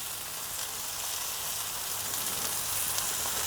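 Meat sears on a hybrid grill with a steady, close, bright sizzle that holds evenly throughout and has no breaks or voices.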